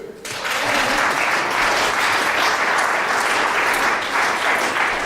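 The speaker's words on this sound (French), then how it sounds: "les applaudit encore un petit peu" An audience applauds after a theatre piece, a loud, sustained wash of clapping that starts abruptly and carries steadily to the end with no talk over it.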